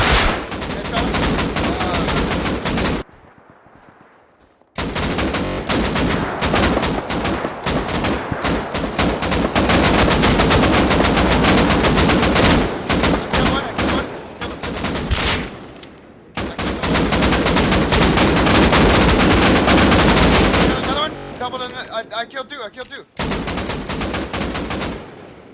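Dense bursts of gunfire in the survival game Rust Console, loud, near, rapid automatic fire broken by brief pauses, with a short lull near the start and scattered shots toward the end.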